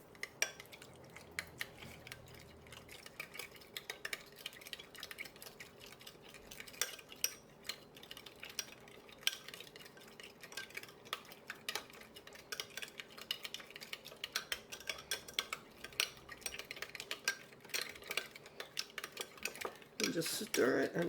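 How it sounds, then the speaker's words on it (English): A spoon stirring sugar into fresh lime juice, giving a steady run of small clinks and scrapes against the bowl that stays faint and continuous throughout. "just stir it until the sugar is dissolved and everything's incorporated and it's smooth"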